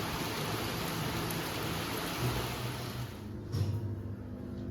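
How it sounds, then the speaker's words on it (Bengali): Rain falls steadily outside in a constant broadband patter and hiss, fairly loud throughout, with a brief louder thump near the end. "বাইরে বৃষ্টি হচ্ছে"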